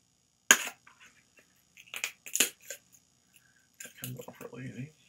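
Sharp snipping and crunching of plastic packaging being cut, a few irregular clicks close up, with rustling afterward.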